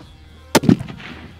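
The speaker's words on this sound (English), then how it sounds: "That little gun shoots, huh?" A small gun on a model battleship fires once at a long-range outdoor shootout, a single sharp close crack followed by a brief low thump and fading rumble.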